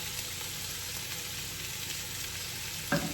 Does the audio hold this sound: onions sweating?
yes